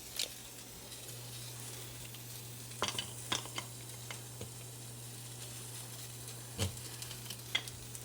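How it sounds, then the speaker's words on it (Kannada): Ragi flour roasting in ghee in a pan over a low gas flame, a soft continuous sizzle with a steady low hum and a few sharp scrapes and clinks of a spoon stirring against the pan. "ಗ್ಯಾಸನ್ನು ಉರಿ ಕಡಿಮೆ ಇಟ್ಕೊಂಡು ಹುರಿಬೇಕು ಇವಾಗ ಇನ್ನೊಂದು ಸ್ಪೂನ್ ಅಟ್ಟ ನಾನು ತುಪ್ಪನ ಹಾಕಾಕತ್ತೀನಿ"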